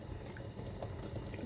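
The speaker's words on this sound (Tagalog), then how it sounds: "Pakuluan muna natin ito hanggang sa maluto muna yung manok." Water with chicken bubbling at a steady low simmer in a pot, a continuous soft rumble with small pops, close by and fairly quiet, with no talking.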